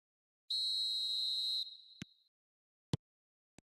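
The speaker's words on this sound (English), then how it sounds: "Whistle goes, and we start the second half." A referee's whistle blows one long, loud, steady blast to restart a football match for the second half, then three short sharp pips follow, with no talk over it.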